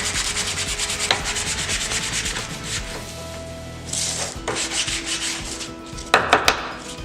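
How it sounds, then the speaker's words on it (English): Hand sanding of a thin wooden piece for a 3D wooden deer head: close, steady rubbing strokes with short pauses and a few sharper knocks near the end, no talking. "One more piece to sand"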